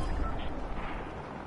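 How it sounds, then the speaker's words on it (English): Gunfire rumbles through a battle royale video game match as a steady, dense low-end barrage with soft distant crackle, continuing with no clear gaps through the short stretch. "Oh, I hear gunfire already."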